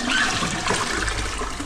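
A blocked toilet flushes with a short, steady rush of water and gurgling, close and continuous.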